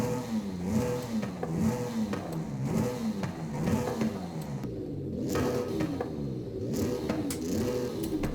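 A GMC Syclone with an aftermarket exhaust, 500 horsepower, in Forza Horizon 5 revs and drives hard, its engine note rising and falling in repeated surges and staying loud and close throughout without speech.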